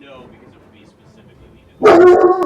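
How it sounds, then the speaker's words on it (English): A dog barks suddenly and loudly near the end, a burst right after quiet talk from a person. "Sorry, that's my dog."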